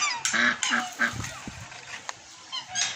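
A black swan's loud, honking calls repeat in quick bursts, close by, with a few shorter squawks and some background noise between them.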